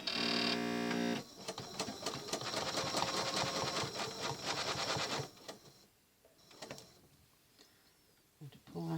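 A sewing machine stitches a curl on a folded quilt guided by a ruler, running in a fast, dense mechanical chatter for several seconds, then stopping, followed by a few short bursts and quieter handling.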